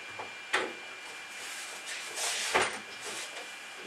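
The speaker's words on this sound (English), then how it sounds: "you open the lid." The lid of a homemade portable airbrush station case is opened with two hollow clunks and a brief scraping slide between them, heard close and without speech.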